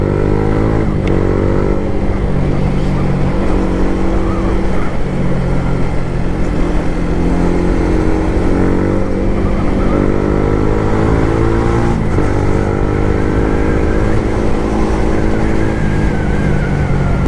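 A Yamaha MT-15 motorcycle on a short test ride makes a loud, close, continuous engine roar, with revs rising and falling through the gears and no pause.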